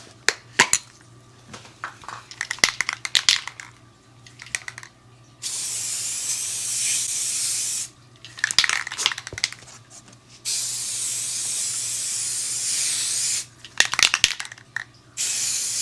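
Spray paint hisses in three long steady bursts onto a wooden shelf for a camper van, with rattling and handling clatter between them.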